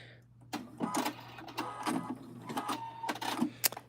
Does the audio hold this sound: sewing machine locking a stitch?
yes